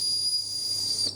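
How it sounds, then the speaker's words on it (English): A small plastic toy guard's whistle from the Fled board game gives one steady, shrill, sustained blow lasting about a second, close and fairly loud, with no talking over it. "Does it actually whistle?"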